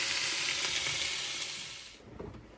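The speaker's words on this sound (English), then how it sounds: "my chicken is frying off" Chicken sizzles gently as it fries slowly in a pan on a motorhome stove, a steady crackling hiss that fades after about two seconds, followed by a few soft clinks and stirring sounds.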